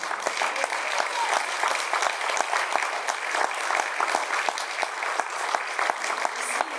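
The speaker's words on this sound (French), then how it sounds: "Applaudissements ce soir à l'orchestre à cordes Anna Žbanova." A concert audience applauds a string orchestra at a winter Slavic-themed evening concert, dense and even clapping from a full hall that runs steadily for several seconds.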